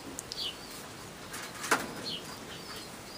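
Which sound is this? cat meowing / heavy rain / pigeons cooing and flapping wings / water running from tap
pigeons cooing and flapping wings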